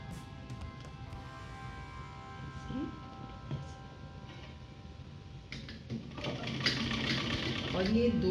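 A sewing machine runs steadily as it stitches a folded two-inch fabric strip on a nighty, a continuous mechanical whir with a faint tick that grows louder toward the end.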